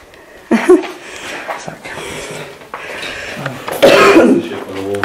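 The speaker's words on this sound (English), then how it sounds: "Sorry for coughing so much" Someone with a chest infection coughing and clearing their throat inside an abandoned hotel, several rough bursts close to the mic amid faint background clatter.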